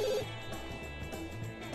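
A telephone rings inside The Sims 2 video game, a soft repeating electronic trill sounding at a steady pace over quiet game background, with no one talking.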